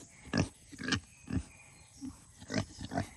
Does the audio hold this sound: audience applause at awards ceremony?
no